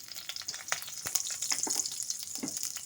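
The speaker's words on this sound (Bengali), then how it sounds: "ওই তেলের মধ্যে আমি দিয়ে দিচ্ছি কালো জিরে, দিয়ে দেবো 2টো শুকনো লঙ্কা ফাটিয়ে দিলাম, 6-7টা কাঁচা লঙ্কা, চেরা কাঁচা লঙ্কা দিলাম" Nigella seeds, dried red chillies and slit green chillies frying in hot oil, a steady close sizzle with crackles and pops, stirred throughout, no talking.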